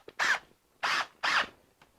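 A screw is driven into a salvaged window frame in three short, even bursts of a power driver, each whirring buzz lasting about a quarter second with brief pauses between, close and fairly quiet.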